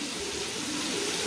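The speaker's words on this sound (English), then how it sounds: "I'm just going to wash my hands." A tap runs with a steady, bright water rush into a sink while someone washes their hands. The flow is even and continuous at moderate loudness.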